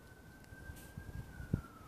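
A distant siren holds a faint, steady wailing tone that drifts slightly lower, over low rumbling background noise, with a soft thump near the end.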